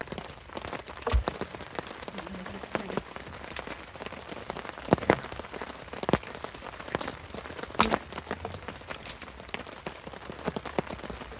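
Heavy rain patters steadily on a wet bushcraft camp at night, with scattered louder drops and taps striking close by across the whole stretch.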